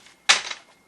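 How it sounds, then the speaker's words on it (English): Tarot cards are shuffled in one quick riffle, a single close, crisp flurry of papery flicking that fades within half a second, with no talk over it. "So let me shuffle the cards again and see what comes out for clarification for Leo"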